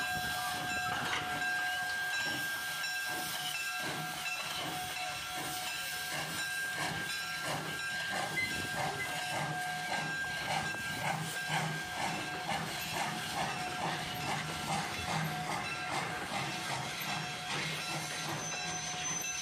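Steam locomotive No. 85 works along the Lebanon, Mason and Monroe Railroad in Ohio during a summer steam event, with a rhythmic chuffing exhaust, steady hiss and a faint high whistle tone throughout.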